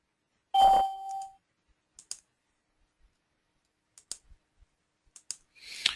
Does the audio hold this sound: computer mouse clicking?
yes